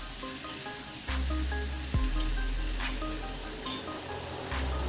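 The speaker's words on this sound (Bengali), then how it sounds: "কড়াইশুঁটিটা একটু ভাজা হবে" Green peas and a large tomato fry in a wok, giving a steady, soft sizzle with faint crackles and a low rumble from the stove underneath.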